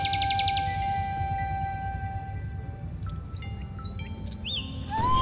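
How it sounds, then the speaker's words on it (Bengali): Assorted birds calling in the Sundarbans mangrove forest, clear repeated whistles and chirps at mid-distance over a low insect hum, with no talking. "নানা পাখির ডাক আর পিওর জঙ্গল ভাইব।"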